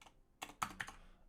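A few quick keystrokes on a computer keyboard, soft and close, three or four taps clustered within about a second with no talking.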